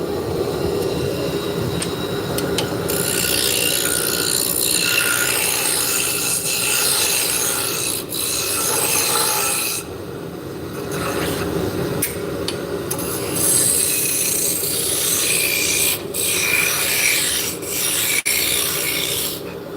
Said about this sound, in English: Sanding the shaft is very difficult.